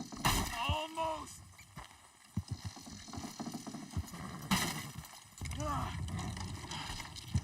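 Horses walk in Red Dead Redemption 2, with soft hoof clops and creaking under wind-like noise, a faint whinny or call, and voices talking over the scene.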